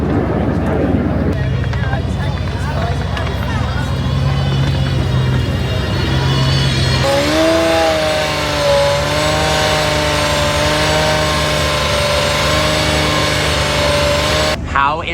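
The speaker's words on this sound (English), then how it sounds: "Baby Valkyrie, the Aston Martin Valhalla pulling through." An Aston Martin Valhalla hypercar pulls through, its engine building into a loud, rising roar that holds strong to the end, with people talking throughout.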